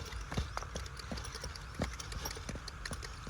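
A mare's hooves clip-clop close by in an irregular run of sharp knocks, with a few louder strikes standing out against quiet background noise.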